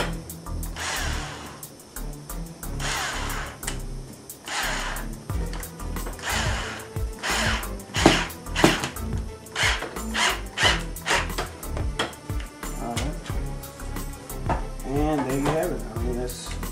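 A power drill whirs in short bursts as it drives a screw, with clicking and scraping between pulses, close by and fairly loud.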